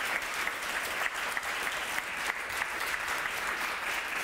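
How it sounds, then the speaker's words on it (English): Sustained audience applause after a talk by a speaker named Robert, a dense, even roar of many clapping hands at steady volume throughout. "Huge applause for Robert."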